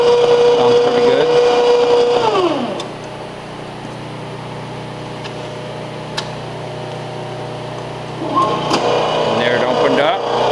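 A pipe machine's electric motor runs with a steady whining hum, winds down partway through and then starts up again near the end, with a person talking over it.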